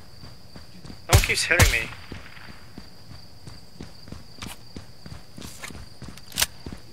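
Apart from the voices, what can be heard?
enemy footsteps in a tactical shooter video game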